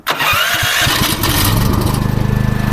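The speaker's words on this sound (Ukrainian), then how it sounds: "Генератор завівся з пів оберта." A Champion CPG9000E2-EU 9 kW petrol generator with automatic motorized choke cranks over briefly and catches almost immediately, settling into a loud, steady close-up engine run with a pulsing rhythm.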